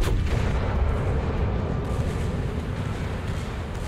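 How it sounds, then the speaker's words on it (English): Warship guns firing in World of Warships, heard as a dense, continuous low-heavy rumble of booming artillery and battle noise, loud and sustained throughout with no talk. "Damn, he's firing at me."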